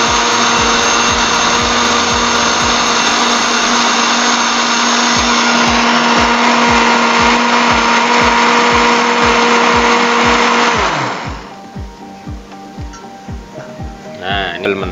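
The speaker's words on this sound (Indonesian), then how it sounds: "ini mentah kita blender" A kitchen blender grinds a kilo of raw chili peppers for spicy sambal, running loud and steady for about eleven seconds before switching off and winding down into quieter clatter.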